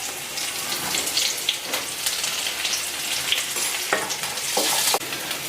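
Onions fry in hot cold-pressed groundnut oil for a spicy soya chunk masala, giving a close, continuous crackling sizzle with sharper pops and a few spoon scrapes.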